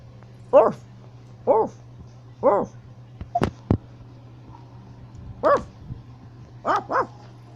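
Basset Hounds and Labradors barking at home, several separate single woofs spaced a second or so apart with quiet gaps and a low steady hum underneath.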